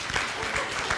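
Brief burst of audience applause after a song at a Cinco de Mayo church gathering, a short patter of clapping from the crowd, moderately loud and ending abruptly.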